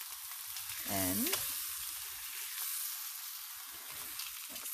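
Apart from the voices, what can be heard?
beef shank searing in a pan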